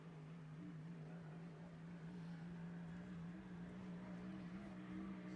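A steady, droning racing boat engine hum holds a constant low pitch throughout, continuous and fairly distant, a powerboat running at speed during a hydroplane race at Seafair.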